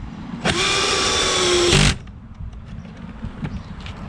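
A power drill drives screws into countersunk holes to fix cladding panels to tiny house frames, one loud continuous whirring burst of about one and a half seconds, followed by faint workshop rustling and light knocks.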